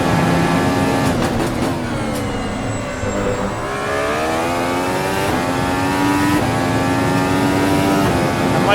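A race car engine accelerates hard out of a corner, loud and close from onboard, with its pitch climbing and dropping back through several upshifts in a continuous roar.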